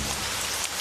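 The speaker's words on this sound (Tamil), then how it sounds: "மழை பெய்யுதுடா அண்ணா" Rain pours in a Tamil children's cartoon, a brief, dense hiss of steady downpour, loud and even with no voices.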